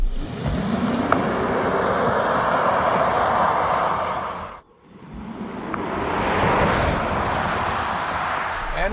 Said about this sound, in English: So to get the best launch, you brake boost it.